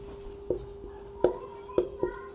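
A pen writes on paper during a class 12 maths lesson, giving a few soft, close taps and scratches at irregular intervals under a steady faint electrical hum.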